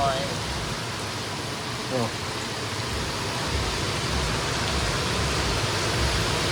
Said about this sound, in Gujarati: વરસાદ ફૂલ ચાલુ થઈ ગયો